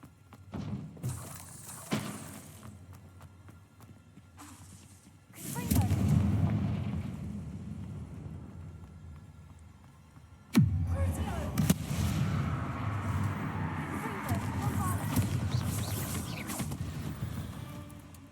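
Heavy booming blasts erupt in the Hogwarts Legacy video game, two big deep impacts that each spread into a rumbling roar, with spell effects and game sounds between them and a voice faintly under the action.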